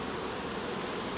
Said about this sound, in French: les abeilles sont cool, comme vous pouvez le voir